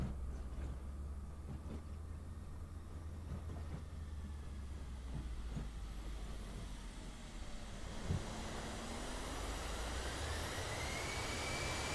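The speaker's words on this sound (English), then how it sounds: "There comes the aircraft, just breaking its way through the fog now." A simulated Boeing 737-800 in Microsoft Flight Simulator approaches through fog, its jet engine a steady, faint low roar with a rising whine building toward the end.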